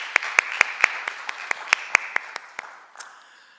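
A small church congregation claps in slow, evenly spaced unison during a Sunday worship service, about a dozen crisp claps with a faint murmur fading at the end.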